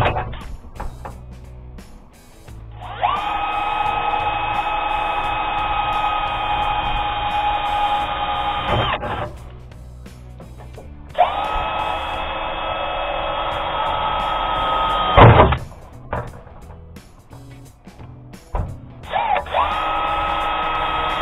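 A power drill with an eighth-inch bit bores rivet holes during a trailer solar panel install, with three sustained high whining runs of several seconds each separated by short pauses and handling clatter.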